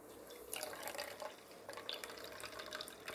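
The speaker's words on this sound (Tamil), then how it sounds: "துணியில் நல்லா வடிகட்டி புளிஞ்சு எடுத்துக்கணும்" Coconut milk drips and trickles as it is squeezed through a cloth strainer into a vessel, faint close splashy patters in an irregular rhythm.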